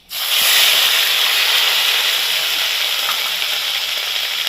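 Ground spice paste hits very hot oil already crackling with panch phoron for a fish curry, bursting into a loud, sudden sizzle that stays strong and hissing throughout.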